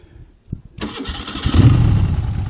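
A 1976 Moto Guzzi Convert motorcycle with an automatic transmission cranks briefly and fires up, settling into a loud, close, rumbling idle.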